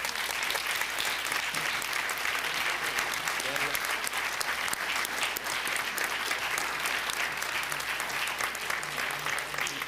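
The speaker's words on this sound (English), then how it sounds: "give them another round of applause" Audience applause fills a city commission meeting chamber: steady, dense clapping from many people holds at an even level for about ten seconds without pause.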